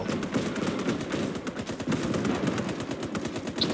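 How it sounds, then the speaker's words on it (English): Sustained automatic gunfire in a WWII Eastern Front video game, a dense rapid clatter of machine gun bursts that runs continuously and loud throughout, with no talk over it. "Just keep shooting until they're dead"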